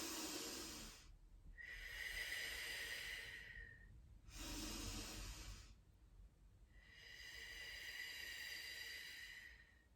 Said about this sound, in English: Let's take a couple of deep breaths in through the nose,